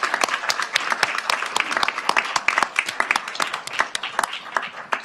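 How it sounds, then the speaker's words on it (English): Audience applause greets award winners at a university biomedical informatics commencement ceremony, a crisp patter of individual claps, fairly close and sustained throughout. "Please give these winners a round of applause."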